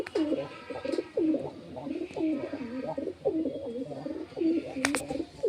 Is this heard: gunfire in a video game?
no